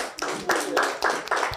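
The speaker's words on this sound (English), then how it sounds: "Please clap for them." An audience at a consensus-building session claps in rhythmic bursts of many hands for under two seconds, close and fairly loud.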